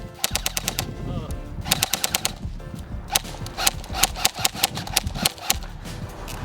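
An airsoft Lancer Tactical Gen 2 M4 rifle powered by a 7.4 V LiPo, jammed with mayonnaise and firing 0.20 g BBs, giving rapid bursts of sharp mechanical cracks over a continuous gearbox whir, close and loud.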